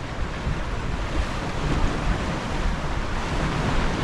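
Steady roar of surf and waves breaking on rocks, with wind buffeting the microphone, continuous and fairly loud throughout, no voices.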